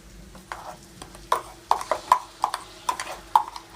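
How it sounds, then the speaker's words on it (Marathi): A spoon scrapes and knocks in a pan as ground masala paste is stirred into a tender cashew curry in Malvani style, a series of close irregular clacks over a faint low background. "मी आता व्यवस्थित मिक्स करून घेते"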